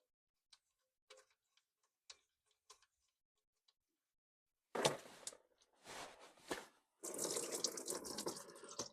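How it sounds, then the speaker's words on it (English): Engine oil draining from a car after a Liqui Moly engine flush, starting as a few faint scattered drips, then a louder irregular gush and steady pouring splash into a drain pan near the end. "Let's go ahead and drain the oil."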